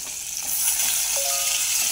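Eggplant dropped into a hot pan of oil with turmeric, curry leaves and bay leaf for a Marathi black-masala bhaji, giving a steady, loud, hissing sizzle that holds without pause.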